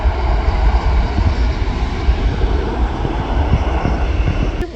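EasyJet airliner jet engines at Manchester Airport, a loud, steady low roar with broadband rumble heard from nearby, continuous throughout.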